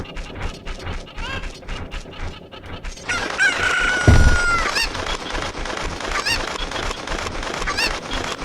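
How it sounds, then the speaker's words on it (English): Chickens in the video game Zelda Ocarina of Time cluck and squawk repeatedly in a busy game soundscape, with a loud flurried burst of crowing-like cries midway and continued clucking after. "the important thing to know about chickens is that when you are holding one, you can do a chicken jump"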